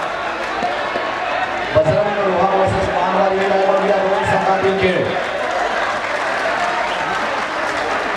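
Crowd cheering and applauding at a girls' semi-final match between Omkar Veshvi and Takadevi Mandwa, a steady dense roar of claps and voices throughout with a brief rhythmic chant swelling in the middle.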